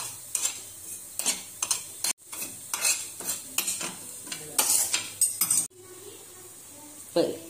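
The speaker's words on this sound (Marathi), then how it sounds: "थोडे तीळ भाजून घेऊया, अर्धे आणि अर्धे भाजीमध्ये टाकायला। खोबरं भाजून घेऊ।" Sesame seeds and a little coconut being dry-roasted in a pan for a Bhogi vegetable dish, with loud repeated scraping and clinking of a spoon against the metal pan in bursts, short pauses between strokes.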